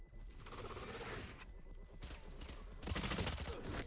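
Rapid bursts of pistol gunfire in Valorant during a last-player-standing round, dense, continuous and fairly close, with a heavier flurry of shots near the end.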